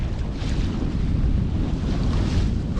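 Sailboat under mainsail in open water, steady loud rush of wind buffeting the microphone over constant wave and hull-water noise, continuous throughout with no talking.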